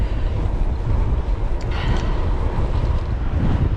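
Strong seaside wind buffeting during a bicycle ride at sunrise, a constant heavy low rumble of wind noise across the microphone with no break.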